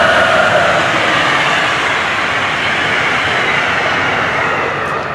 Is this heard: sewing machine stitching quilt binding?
no